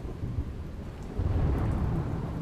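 Unseasonal rain with strong wind in Gujarat roars as a steady broadband wash, with a low thunder rumble swelling partway through and continuing to the end, and no voices.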